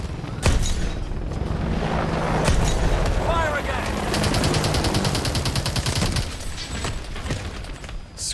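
Call of Duty: Advanced Warfare battle with dense, loud automatic gunfire and booming blasts over a continuous roar of vehicles and combat noise, with voices shouting under the din throughout.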